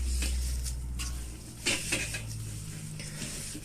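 Çiğ köfte ingredients being mixed by hand in a metal çiğ köfte tray, giving soft scraping and clinking contact sounds in a few short bursts, close and fairly quiet with no talking.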